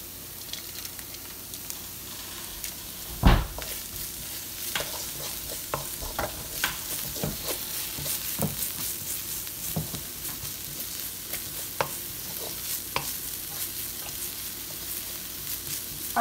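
Green chillies frying in a pan for a tuna roti filling, a soft continuous sizzle with frequent clicks and scrapes of a spoon stirring, one sharper knock early on, no talking.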